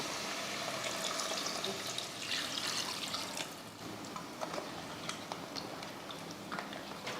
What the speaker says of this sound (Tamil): இந்த டைமில் நம்ம தண்ணி சேர்த்துருவோம்.